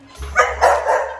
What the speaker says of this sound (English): And he'll bark at me to do stuff.